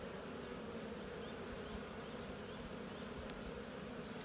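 Honey bees in a weak beehive hum in a steady, continuous drone, close and fairly soft, with no voices over it.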